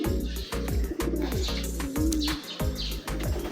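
Racing pigeons cooing close by in a loft during a 92 km training toss, with repeated low rolling coos in a steady rhythm and some overlapping chirps.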